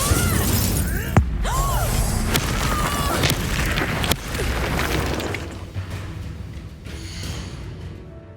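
Incendio fire spell cast in Hogwarts Legacy amid dense combat effects: booming bursts and crashing, shattering impacts with a few sharp hits, loud and continuous across the clip with no talk.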